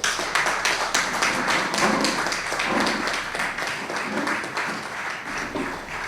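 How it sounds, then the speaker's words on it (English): A crowd applauds steadily, with dense clapping from many hands at an even level throughout, no voices standing out. "I wish you to give him a big round of applause."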